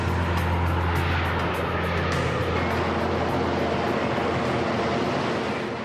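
A Harrier jump jet slows with its nozzles directed forward, making a loud, steady broadband roar that fills the whole clip without letting up.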